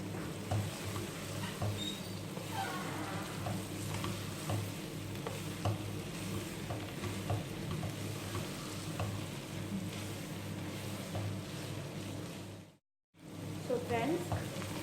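Egg and potato bhurji frying in a pan: a steady close sizzle with scattered small pops and spatula scrapes runs throughout, broken by a brief cut to silence near the end.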